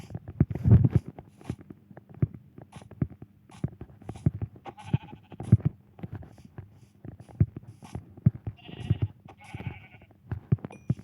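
Sheep in Minecraft, the survival video game, give repeated short bleats over a steady run of footsteps and clicking game sounds, with no voices in between.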